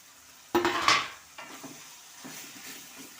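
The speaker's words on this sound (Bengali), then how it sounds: "সুন্দর করে কষাতে হবে, গ্যাসটা একটু কমিয়ে দিতে হবে তলায়" Pieces of meat hitting a hot pan and being stirred, starting with a loud burst of sizzle and scraping clatter of a spoon against the pan, then settling into a softer frying hiss with intermittent stirring scrapes.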